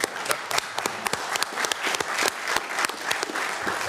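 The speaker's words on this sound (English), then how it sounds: "So I think we owe them a round of applause." County commissioners' meeting audience applauding fleet management award winners, a moderate crowd giving loud, steady clapping with crisp individual claps throughout.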